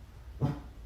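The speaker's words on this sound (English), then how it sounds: "Dog randomly barking at nothing." Dog giving a single short, faint bark, alone and somewhat distant against a quiet background.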